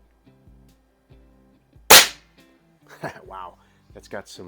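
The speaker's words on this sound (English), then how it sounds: "I think we got some detonation going on there, but I hit almost where I was aiming." A single sharp crack from an Umarex Prymex .22 gas ram air rifle firing, loud and close after quiet handling clicks, followed by someone talking.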